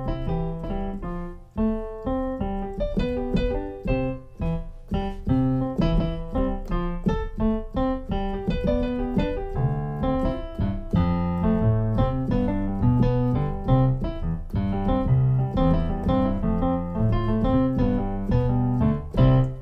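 Piano plays a bouncy, syncopated I-IV-V chord progression in a lilting Caribbean style, steady and bright throughout with no voices.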